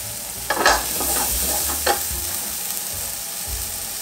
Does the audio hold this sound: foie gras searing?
yes